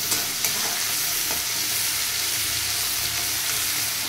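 Onions fry in a pan with a steady, close broadband sizzle and occasional stirring scrapes, continuous and fairly loud with no talking over it.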